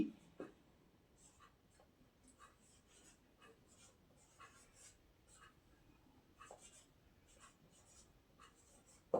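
A pen writing on paper, soft scratchy strokes in short irregular bursts, faint and close, with a few louder taps and no clear talking.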